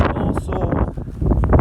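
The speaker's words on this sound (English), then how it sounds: "kind of windy right now" Gusting outdoor wind buffets the microphone in uneven low rumbling bursts, mixed with some talking.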